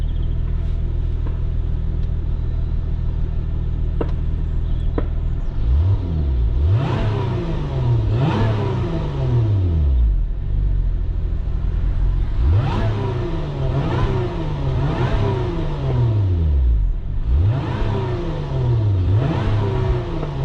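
A V6 sports car engine, with a soft limiter at 4,000 RPM, idling loudly and then revved repeatedly in rising and falling sweeps, close and powerful.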